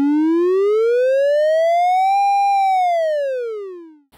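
A single synth tone from a TC-11 iPad touch synth glides smoothly upward in pitch as a finger rotates around the center, peaks midway, then slides back down and fades, loud and alone for about four seconds.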